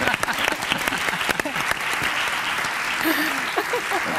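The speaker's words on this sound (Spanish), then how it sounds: "Un aplauso." Studio audience in Seville claps on a live afternoon television show, a brief, dense burst of applause that builds and fades, with a host speaking over it.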